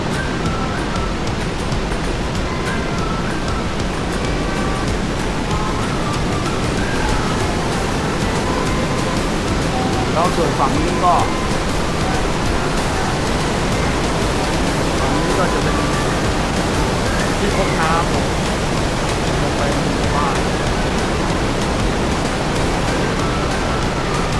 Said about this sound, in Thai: วิวน้ำตกเลย